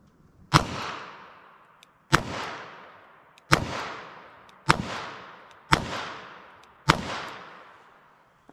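Six sharp handgun shots fired at a target from 7 yards, each a loud crack with a decaying echo, spaced about 1.5 seconds apart in a steady rhythm with no talking.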